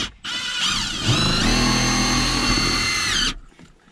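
A power drill runs a tech screw into a bolt while an ARB dual compressor is being fitted inside a car cab. One loud continuous whine climbs in pitch, holds steady for about three seconds, then stops abruptly.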